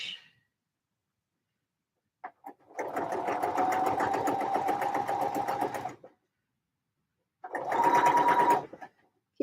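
A sewing machine stitches fabric at a 3/8-inch seam, running steadily for about three seconds, pausing, then running again in a shorter second burst, loud and close with no talk over it.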